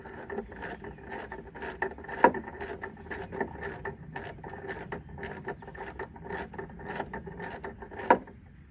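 Bolts on the driver-side rear hood brace of a 2007 Freightliner truck are snugged with a ratchet, giving a steady run of quick, fairly quiet clicks with a couple of sharper knocks.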